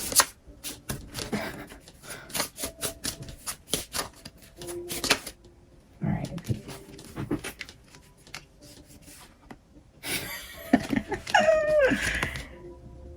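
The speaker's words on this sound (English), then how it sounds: "Have you guys ever seen me shuffle this on without a card or a few coming out?" Tarot cards being shuffled by hand, with a run of quick, close crisp riffling bursts and slaps, pauses between, then a brief rustle near the end.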